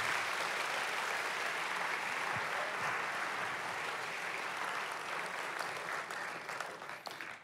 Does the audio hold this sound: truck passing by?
no